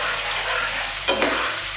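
Gobindobhog rice is stir-fried in ghee with bay leaf for murighonto over a raised flame, making a steady, close sizzle broken by a brief scrape of stirring.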